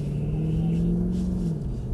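A Mercedes C63 AMG engine holds a steady, low drone that rises slightly and then eases off, audible as a continuous rumble throughout.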